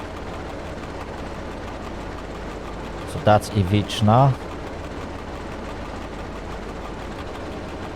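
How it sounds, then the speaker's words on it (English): A train in the Train Driver 2 simulator, slowing on approach to a station, gives a low steady rolling rumble throughout, with someone speaking briefly over it. "I still have to pull my train a little bit further"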